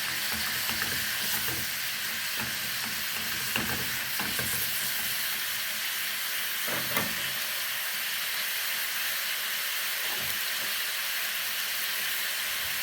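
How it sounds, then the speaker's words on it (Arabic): Meat sautéing in butter in a pot, a continuous bright sizzle and hiss with occasional stirring scrapes and clinks, close and steady throughout. "حته الزبده دي لما بتعمليها وتشوحي بقى حته اللحمه"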